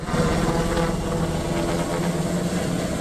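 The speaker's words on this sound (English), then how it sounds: "Meet the Sikorsky S-70I Firehawk helicopter," A steady, loud Sikorsky S-70i Firehawk helicopter drone with a low rotor thump and engine whine, continuous and close throughout.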